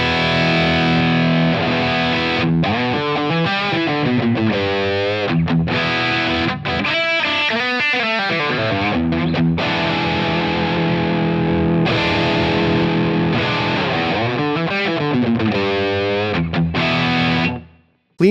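Electric guitar through a Helix amp model with its EQ cuts bypassed (low cut, high cut and a cut near 450 Hz) plays a continuous, heavily distorted riff, loud and up front, ending abruptly.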